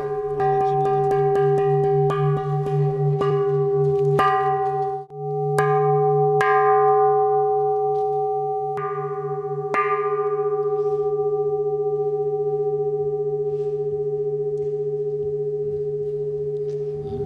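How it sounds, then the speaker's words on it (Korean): A newly cast small bell is struck several times in a foundry to test its tone, each strike ringing out clearly with long, sustained humming overtones that slowly fade. "완성된 종은 하나같이 소리를 시험한다."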